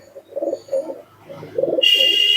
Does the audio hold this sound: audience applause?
no